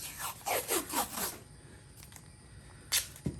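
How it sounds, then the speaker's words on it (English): Tape being pulled off a roll, a quick series of crackling ripping bursts up close, followed by quieter handling and a short final tear. "So you take a piece of tape,"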